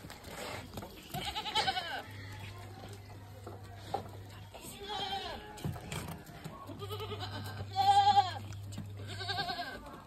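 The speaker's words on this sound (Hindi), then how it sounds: "बकरी बेचारी सहमी खड़ी है" Goats bleating during milking outdoors in the sun, several loud wavering bleats spread across the stretch with low rumbling and soft handling noise between them.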